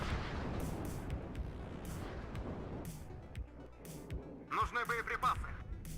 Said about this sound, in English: My units moved, I engaged, and it's just artillery from everywhere.